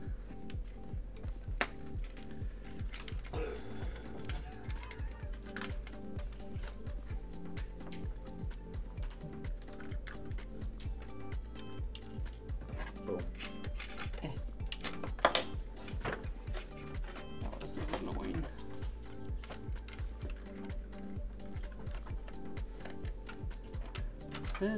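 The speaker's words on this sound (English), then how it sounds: "Hear Chris aggressively typing away over there" Fast, continuous clatter of keys on a computer keyboard, a dense stream of clicks with occasional harder taps, fairly close and steady.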